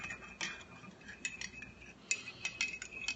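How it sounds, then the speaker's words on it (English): Spoon stirring a teaspoon of turmeric paste into hot boiling water, a close series of light metallic clinks and taps against the container, irregular in rhythm, with no talking. "I'm going to stir that in"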